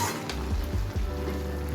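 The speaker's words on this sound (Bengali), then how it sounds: "ভালো মতন করে এই জলটাকে টানিয়ে একদম ভাজা করে নিতে হবে এটাকে" Chicken keema sizzles steadily in a pan as its water cooks off for a ghugni dish, a close, even frying hiss broken by a few soft stirring knocks.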